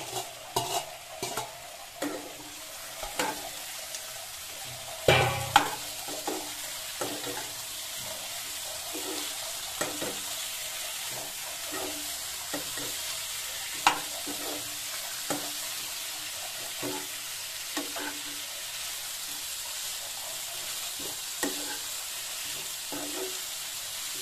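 Chopped swamp eel pieces go into hot fried spice paste for an Assamese eel curry, giving a steady close sizzle broken by frequent scraping stir clicks and a few louder clatters, with no talking.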